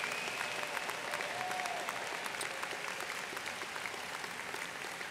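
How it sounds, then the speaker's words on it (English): Commencement crowd at Binghamton University's Harpur College applauding in a large venue, steady many-handed clapping heard from a distance, even and fairly faint throughout. "Let's have a round of applause for them as well."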